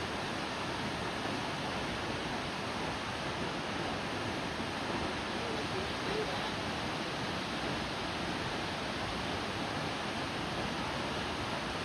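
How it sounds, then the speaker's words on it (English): Waterfall at an Arkansas park roaring in a dense, unbroken broadband rush, loud and close, continuing evenly from start to finish with no talking. "this waterfall."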